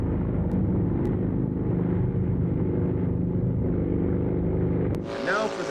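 A motorcycle engine roars steadily as it strains against a 6,000-pound sled on a dirt rodeo track, throwing dirt without moving the load: a loud, continuous rumbling drone that shifts near the end.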